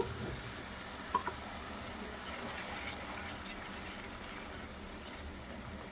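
Ginger garlic paste frying in a pan, giving a faint, steady sizzle with a couple of soft stirring clicks near the start and no talking.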